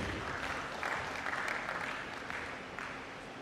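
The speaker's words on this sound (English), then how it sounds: "Clap for her and clap for it." Faint, distant applause from a college lecture audience, a soft steady rush of clapping heard alone at low volume.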